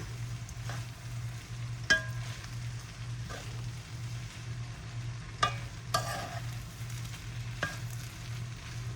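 Fried rice warms in a pan with a soft, constant sizzle, broken by occasional sharp scrapes and taps of the stirring utensil over a low steady hum; no one speaks.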